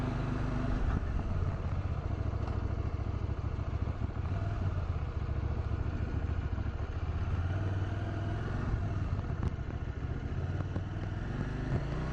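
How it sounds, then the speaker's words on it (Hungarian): A CFMoto 800 MT Explore Edition motorcycle idles steadily nearby with a constant low, even engine rumble and light mechanical clatter, and no one speaking. "Ő lenne az én motorom, CF Moto 800 MT Explore Edition,"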